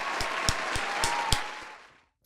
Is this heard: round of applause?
yes